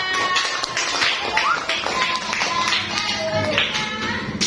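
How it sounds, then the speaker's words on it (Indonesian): Students in a classroom clap their hands in a scattered burst of taps, fairly close, with children's voices and chatter running underneath throughout. "Beri tepuk tangan"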